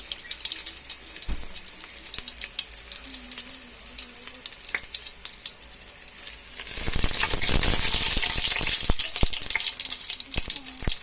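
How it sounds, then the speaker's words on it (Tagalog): Garlic dropped into a hot pan for chicken soup with papaya: a faint background hiss first, then a sudden louder spreading sizzle that continues steadily, close by, with a voice briefly heard early on. "Init na ang kawali. Lalagay na ang bawang."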